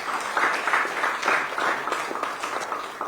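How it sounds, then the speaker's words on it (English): Applause from an audience at an EU climate diplomacy event, a moderate crowd clapping with a pulsing, uneven rhythm that carries on steadily for a few seconds with no speech. "A big round of applause again for him"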